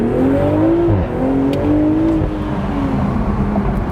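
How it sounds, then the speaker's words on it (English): BMW Z4 M40i pulling away hard from a complete stop in Sport Plus mode, a loud close engine note climbing steadily in pitch with a brief dip near the first second, continuous and without talk. "and foot on the gas."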